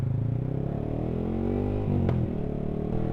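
A small motorcycle with troublesome electrics idles and then pulls away, its engine note rising in a steady drone with a brief rev burst near the middle, close and continuous without talk.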